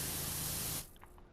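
A pressure washer sprays dirt off surfaces in PowerWash Simulator 2, a loud, close, steady hiss of water jet that cuts off abruptly, leaving faint background noise.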